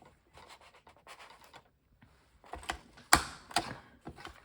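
A corner rounder punch clicking and crunching through paper corners, with faint fiddling at first and then a few sharp, louder punch snaps near the end.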